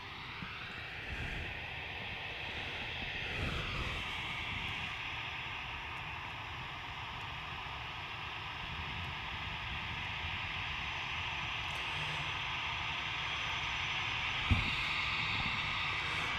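An EasyJet airliner takes off at Manchester Airport in the evening, its jet engines making a continuous, moderately loud roar with a high whine on top, steady throughout and heard without talk.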